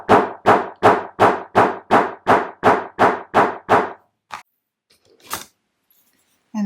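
A hammer tapping a metal snap onto a fabric wallet: eleven evenly spaced sharp metallic knocks in a quick steady rhythm, close and loud, then a couple of isolated taps after a pause.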